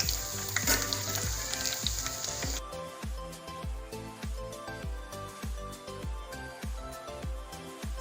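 Cumin seeds and garlic sizzle in a spoon of oil and a spoon of ghee for a South Indian tomato dal tempering, a steady bright crackle with repeated low scraping knocks of a spoon against the pan.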